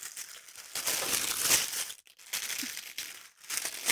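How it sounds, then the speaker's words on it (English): A plastic bag holding craft supplies crinkles and rustles loudly up close during unboxing, in bursts of crackling handling broken by brief pauses. "I'll get it out this noisy bag."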